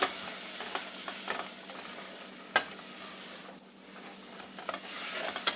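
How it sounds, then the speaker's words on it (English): Green chilies with their juice being stirred into a pot of creamy Mexican soup, soft wet scraping and sloshing with a faint sizzle underneath, a sharper spoon knock partway through, no voices. "now I'm going to add our green chilies, and I left the juice and everything in them. Stir them around."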